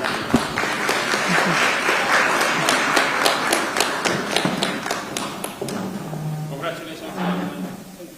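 An audience at a U.S. Chamber of Commerce event in Washington, D.C. applauds for several seconds. The steady clapping fades toward the end, and some voices can be heard underneath.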